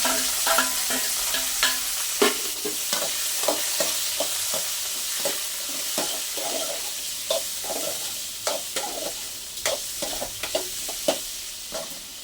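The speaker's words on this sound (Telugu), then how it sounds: "ఇప్పుడైతే ఆవాలు వేగిపోయినాయి కదా. ఇప్పుడు ఈ మునక్కాయని లావుగా వేసేయాలి." Pieces of drumstick (moringa pod) fry in a pan with mustard seeds, giving a steady sizzle broken by scattered sharp crackles and clinks of stirring, close up, with no talking.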